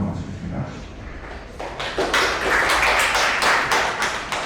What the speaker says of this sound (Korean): 두 분의 발제자분과 그리고 두 분의 토론자분께 다시 한번 큰 박수 주시면 감사하겠습니다